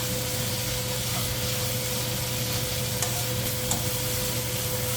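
Korean fish cake and onion stir-frying in a hot pan, a steady loud sizzle with occasional scrapes and clicks of stirring, no voices.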